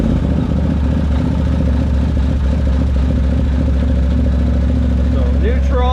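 A Can-Am Maverick UTV, a neglected project machine, runs with a steady, even engine idle that stays close and fairly loud for the whole stretch, holding a constant low drone.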